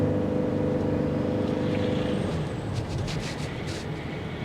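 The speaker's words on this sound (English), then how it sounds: "let's see how that engine sounds though" Steady, smooth hum of a 2024 Toyota Sienna XSE hybrid minivan's engine running, a low constant drone that shifts slightly in tone partway through, with some faint higher whirring on top and no talking.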